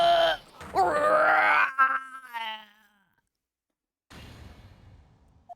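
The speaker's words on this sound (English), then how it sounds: "That scream. I've heard that scream before." A drawn-out, wavering scream from the game Ace Attorney, loud and close, tailing off into silence before a quieter rustle returns.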